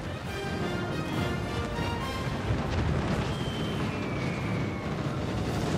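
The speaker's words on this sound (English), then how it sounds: "That's a lot of flak." Dense anti-aircraft flak bursting in a World of Warships Legends naval battle, a continuous rumbling wash of distant explosions and crackle with no pauses, steady and fairly loud throughout.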